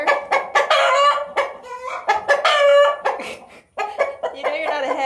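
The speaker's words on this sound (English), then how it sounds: "I don't know if Molly's squawking because she's done or because she got kicked out of the nest" An Olive Egger hen squawks loudly and repeatedly in harsh, drawn-out bursts, close by, with a brief pause near the end before the squawking resumes.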